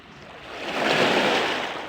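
Calm sea waves wash softly against the shore, a single gentle swell rising and falling in a broad hiss with no voices.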